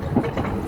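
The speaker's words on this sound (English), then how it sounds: "Taking the little choo-choo train, because honestly, just didn't want to walk up" A small tourist choo-choo train rides along in the Vietnamese mountains, a close, loud, rumbling clatter over a brief moment.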